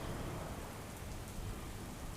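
Heavy rain pours down in Keshod, Gujarat, a dense, even, unbroken wash of falling water, fairly soft and distant, with no voices.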